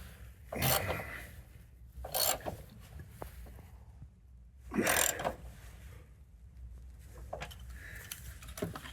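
Ratcheting wrench tightening engine mount bolts on a 2013–2016 Dodge Dart during a passenger-side mount replacement, heard as several short raspy bursts of clicking with quieter gaps between them.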